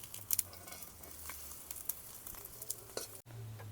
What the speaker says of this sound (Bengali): আমি কড়াইতে রান্না করব তাই কড়াইতে ভেজে নিচ্ছি